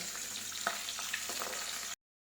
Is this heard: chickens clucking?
no